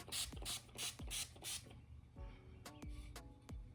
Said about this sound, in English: I'm going to spray this on my face